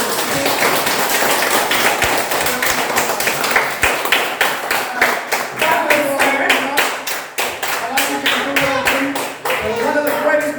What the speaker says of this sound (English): We want to welcome Mr. Black with a big round of applause, everyone.